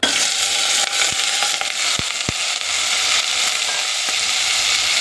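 Washed mutton sizzles in hot oil, a loud, steady frying hiss with a few sharp clicks and scrapes from stirring.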